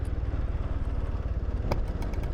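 A Royal Enfield Scram 440 motorcycle slows on a city street, its single-cylinder engine thumping in a steady, loud, close rhythm with rattly mechanical clatter.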